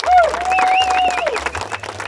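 Applause at a town anniversary celebration, with brief clapping mixed with crowd noise and a prominent tonal sound like music or a whistle sliding through it.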